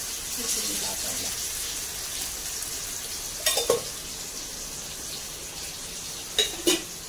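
Pomfret fish fry in oil on a pan with a continuous hiss. Two pairs of sharp metallic scrapes break through the sizzle, and a voice is faintly present.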